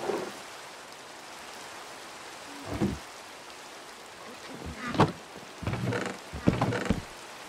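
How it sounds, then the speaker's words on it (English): Rain in the video game Minecraft makes a steady broadband hiss throughout, with a few short, louder bursts that may be voices over it. "It's raining, boys!"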